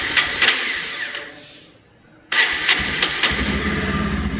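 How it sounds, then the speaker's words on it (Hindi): Bajaj Pulsar E20 BS6 motorcycle engine cranks and catches, runs roughly, dies away for a moment, then restarts abruptly into a loud uneven idle with irregular misfiring beats, close up. "सबसे पहले गाड़ी को स्टार्ट करके आपको दिखा देते हैं कि मिसिंग किस प्रकार से करती है"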